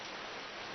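Rain falls as a sound effect in a radio drama, a brief steady hiss of even, dense noise.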